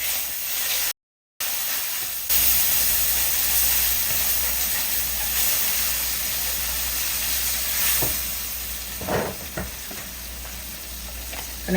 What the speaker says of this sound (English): to our pan, we're going to add some butter